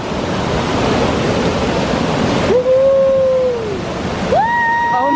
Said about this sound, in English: it is a full-size freaking actual waterfall